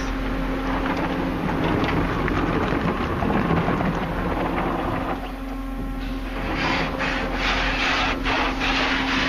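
Wax sprays continuously inside an automatic combination car wash, a dense rushing hiss that drums against the car with a constant mechanical hum underneath, loud and close throughout.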